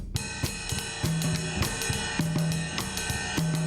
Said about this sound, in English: Rhythm, and I'll imply the pattern for the congas.